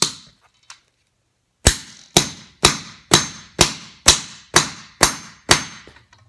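Eight sharp, evenly spaced hammer strikes drive 11/16 concrete nails into a concrete floor, ringing out one after another after a short pause, crisp and close with no talking.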